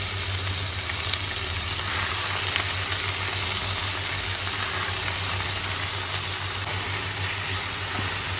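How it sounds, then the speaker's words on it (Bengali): Chopped jute leaves fry lightly in garlic-flavoured oil, giving a steady, even sizzle and hiss that runs the whole time, with a low background hum and no voices. "শাকটাকে একটু হালকা ভেজে নিতে হবে।"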